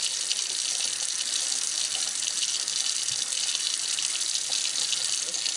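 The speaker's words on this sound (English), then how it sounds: "And I'm just running the water through." Tap water runs steadily through sausage casing, a constant close hiss of flowing water into a sink with no speech.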